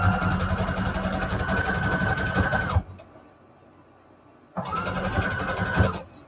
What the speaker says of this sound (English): And then you can sew.